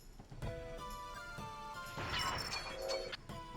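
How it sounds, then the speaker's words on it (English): Glass shattering in the PlayStation game Koudelka, heard as a few sharp crashes against a background of tonal game music, with a bright burst of breaking glass in the middle. "I like the sound of the glass breaking"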